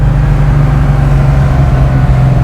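A 1969 Ford Mustang Fastback restomod with a 347 stroker engine and five-speed, heard from inside the cabin as a loud, steady low engine roar under hard throttle.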